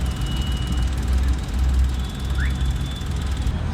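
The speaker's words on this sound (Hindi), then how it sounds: "जो भी इंजन नॉइस है वो है सिर्फ टर्बो जो लगा हुआ है गाड़ी में उसकी वजह से।" Engine and turbo noise from a Tata Nexon on the road, a steady loud drone with a faint whine, continuous throughout with no talking.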